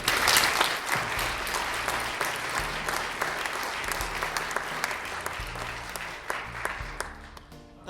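Audience applause filling a church to welcome speaker David Lose, steady dense clapping throughout that stays loud before thinning slightly toward the end, with low background murmur.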